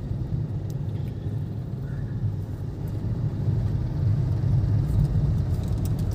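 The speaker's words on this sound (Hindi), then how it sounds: "ये हुंडई न्यूज कार जो हमारे बाबूलाल जी साहब हैं, वो गाड़ी ड्राइव कर रहे हैं" A Hyundai Nios car being driven gives a steady low engine and road rumble, heard from inside the cabin, swelling slightly louder toward the end, with no talking.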